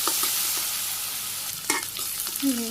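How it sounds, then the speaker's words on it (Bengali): Potatoes frying with salt and turmeric in a village kitchen, a steady close sizzle of oil with a few sharp stirring scrapes near the end. "আলুগুলো দিয়ে দিতেছি, হালকা ভাজি করে নিই।"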